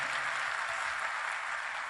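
Sustained applause from a crowd, steady and dense clapping throughout with no voices over it.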